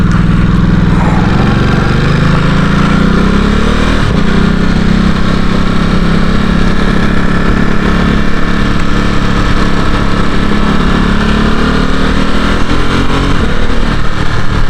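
A Ducati Supersport S motorcycle engine drones loudly and steadily while riding, its pitch rising and dipping with the revs, close up and without talk.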